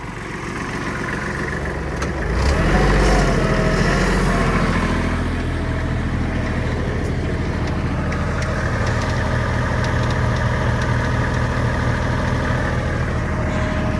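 A Kubota GL-25 mini tractor engine runs steadily up close, its low, loud drone rising as the throttle is opened and then holding at a higher, even rumble with no talk.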